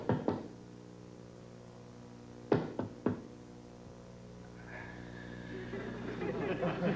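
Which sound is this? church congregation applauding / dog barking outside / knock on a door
knock on a door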